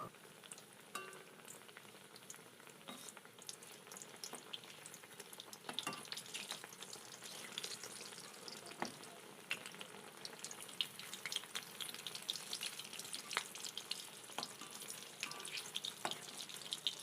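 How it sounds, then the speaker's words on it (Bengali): Semolina sweets frying one by one in hot oil over a high flame, giving a steady, dense crackling sizzle with scattered pops and spatters throughout, fairly quiet and close, with no voices. "এরপর একে একে তেলের মধ্যে দিয়ে ভেজে নেব"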